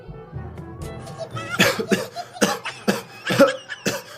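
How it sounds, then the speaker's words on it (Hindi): A man in a Hindi comedy sketch about cough syrup coughing in a string of harsh, throaty bursts, about six in rhythmic succession, close and loud after a short lead-in. "फिर खांसी उठ गई"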